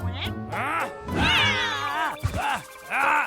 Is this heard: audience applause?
no